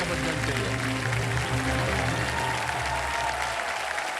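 A studio audience at the quiz show KBC applauds loudly and continuously, a dense wash of clapping with a low music bed under it.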